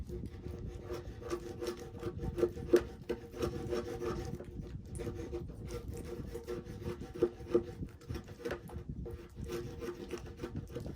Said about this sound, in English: I'll cut that with a razor blade to cut those fibers of that wood